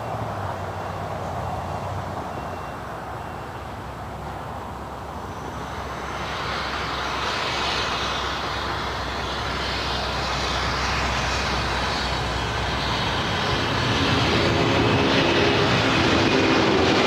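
A Boeing 747 jet rolls down runway 25L at LAX for takeoff, a loud, steady engine roar that builds and swells over time, with no talk.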